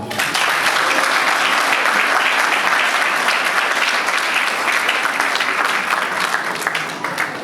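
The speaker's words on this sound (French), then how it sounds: "inviter l'assistance ici présente de les applaudir fortement" Guests at a civil wedding ceremony applaud the couple, a dense, loud, sustained round of clapping that fills the room evenly and fades slightly at the end.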